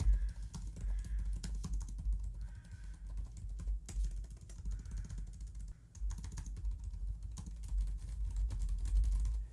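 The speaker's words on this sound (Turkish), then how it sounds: "Klavyenin sesi konusunda da başarılı olduğunu söylemek istiyorum." Soft, rapid clicking of keys on a Huawei Matebook 14s 2023 laptop keyboard, a steady stream of light taps close by with a faint low background hum.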